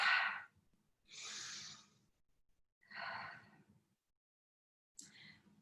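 Steady breaths in and out during a Pilates mat exercise in a quasi-plank position, four soft airy breaths spaced about a second apart, close and unhurried, alone without talk.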